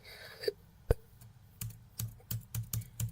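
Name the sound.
typing on a computer keyboard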